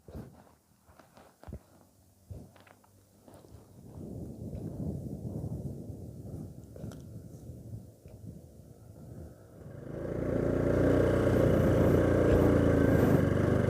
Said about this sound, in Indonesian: Nah itu ada sudah motor naik itu boncengan.